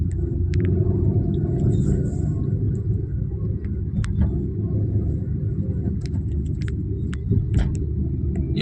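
Heavy Mumbai traffic heard from inside a taxi in Bandra East, a steady low rumble of engines and road noise with scattered faint clicks and distant horn-like blips, continuous throughout with no clear talking.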